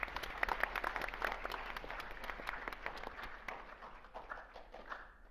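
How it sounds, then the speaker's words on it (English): An audience at an AP Day event gives a round of applause. The clapping is dense and moderately loud at the start, then thins and fades toward the end. "Let's give her a round of applause."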